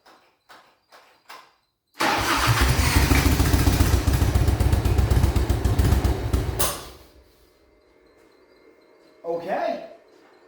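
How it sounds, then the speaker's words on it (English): A few sharp knocks, then an engine on its first start bursts into a loud, rough, throbbing run for about five seconds before dying away, followed by a brief second sputter near the end. "Let's turn on the gas and see if it'll start."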